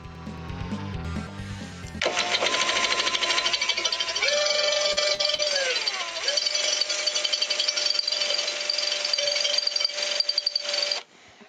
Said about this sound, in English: this drill bit might not be the right kind to go through something this strong